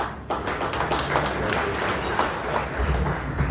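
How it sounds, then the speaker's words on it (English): A community audience gives a round of applause for a new local business, White Lion LLC, with sustained, fairly loud clapping mixed with scattered taps throughout. "Let's give a round of applause"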